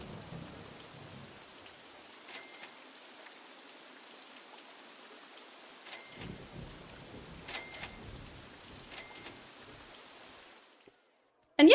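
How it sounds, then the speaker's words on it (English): Steady rain hisses on in RollerCoaster Tycoon 2, with a soft continuous patter, faint rumbling swells and a few brighter ticks, then a brief break and a sudden loud burst at the very end. "They knew it was raining when they walked through the gates."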